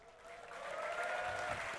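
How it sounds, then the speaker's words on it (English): An esports crowd at DreamHack Summer 2012 cheers and applauds for returning players, a steady, broad wash of clapping and cheering that swells slightly and holds throughout. "Let's have a cheer for Gosu, Pepper, and Snoopy."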